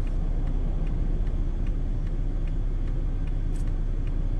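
A single car drives past on an open road, a steady low rumble of tyres and engine that stays moderately close throughout, with no talking.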